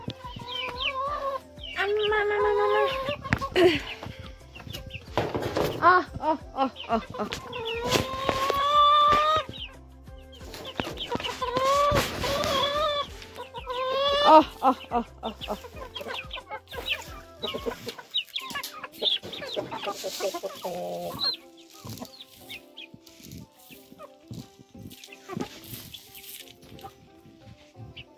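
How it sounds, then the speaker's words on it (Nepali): A flock of farm chickens clucks busily and close by at feeding time. Their choppy bursts of clucks come and go over about half a minute while a person talks among them. "यहाँ चाहिँ कुखुराको चारो खाने टाइम भयो है"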